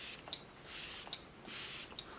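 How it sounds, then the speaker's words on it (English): Morphe Luminous setting spray misted from a pump bottle in a few short, soft bursts of airy hiss, close and alone, with quiet pauses between sprays. "This is the Morphe Luminous setting spray."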